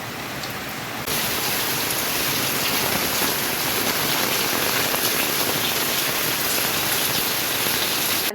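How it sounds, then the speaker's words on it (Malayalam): Heavy evening rain in Kollam, Kerala pours down in a dense, unbroken roar, growing louder after the first second and staying intense throughout. "നല്ല സൂപ്പർ മഴയാണ് കൂട്ടുകാരെ കേട്ടോ"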